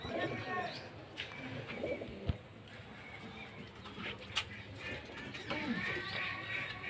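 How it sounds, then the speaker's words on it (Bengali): Pigeons kept at a home loft coo softly against a dense, noisy background. The low calls are faint and come in irregular bursts, with occasional clicks and rustles nearby. "খুব সুন্দর লেগেছে পায়রাগুলো দেখে।"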